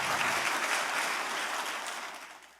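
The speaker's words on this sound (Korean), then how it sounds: "우리 모두 축하의 박수를 함께 치면서" Audience applause opening the first Map Day commemorative ceremony, a dense, steady wash of clapping from a crowd that holds loud for the length and tapers slightly at the end.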